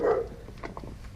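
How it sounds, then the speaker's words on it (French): A dog gives a single short bark close by, followed by faint rustling, during a winter carp-fishing outing. "désolé pour mon chien, il aboie."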